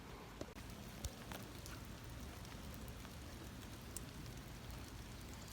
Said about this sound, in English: So, yeah, it's raining.